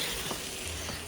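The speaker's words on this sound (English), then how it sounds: "my kettle's boiling over" An overflowing kettle sputters and sizzles as boiling water spills onto a hot surface, a continuous close hiss with faint bubbling and no talk.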